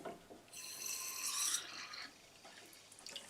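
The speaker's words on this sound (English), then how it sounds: "turn the tap on" Water runs from a tap onto a Czechoslovakian NBC protective hood, a close, hissing rush that swells for about a second and a half, then tapers into faint trickles and drips.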